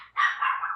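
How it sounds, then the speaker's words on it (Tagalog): A single short, sharp bark from a pet dog, close and fairly loud, with a brief trailing yelp, heard alone without talk. "Ingay ng aso ko."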